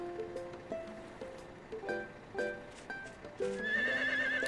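A horse in the Harvest Moon: The Winds of Anthos farming game gives several short neighs and whinnies among light chiming game music, ending in a brighter sustained musical flourish.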